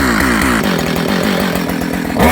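Husqvarna 572XP professional 70cc chainsaw warming up at a blowdown, its two-stroke engine running loud and close with a rough, fluttering buzz throughout.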